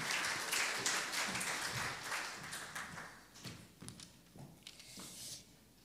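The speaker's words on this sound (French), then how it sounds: "Donc, applaudissez" An audience at a medical talk gives a round of applause for a professor, scattered claps that thin out and fade toward the end.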